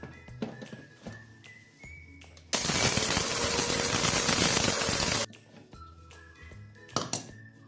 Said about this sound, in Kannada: ಫುಲ್ ಡ್ರೈ ಆದ್ಮೇಲೆ ನಾವು ಇದನ್ನು ಮಿಕ್ಸಿನಲ್ಲಿ ಪೌಡರ್ ಮಾಡ್ಕೋಬೇಕು.